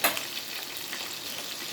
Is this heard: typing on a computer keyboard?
no